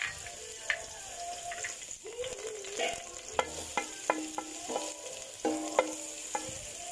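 Garlic sizzles in hot cooking oil in a pan, a soft continuous frying hiss punctuated by distinct clinks and scrapes of a utensil stirring, fairly quiet and close, without speech.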